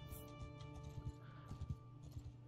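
Horse hooves in the medieval combat game Mount & Blade II: Bannerlord, a faint, steady clip-clop of a riding horse over a constant low hum, with no whinny clearly standing out.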